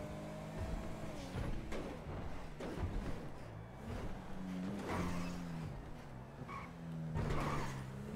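A car revs and accelerates through a favela in GTA V, the engine note rising and falling through gear changes with tire squeals and skids, moderately loud and steady, with no talking.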